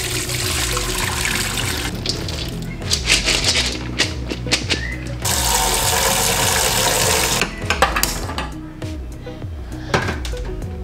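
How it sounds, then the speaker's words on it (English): Dry split peas being rinsed in water in a kitchen, with sloshing, swirling and running water in loud bursts, rattling and clatter, and pouring that stops and starts. "Now I'm gonna rinse this like about 2 or 3 times."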